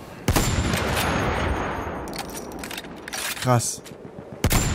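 Gunfire in the Battlefield 1 multiplayer beta during a sandstorm: loud sharp shots crack out at the start and end, with scattered bursts in between, and someone speaks briefly in German over the action.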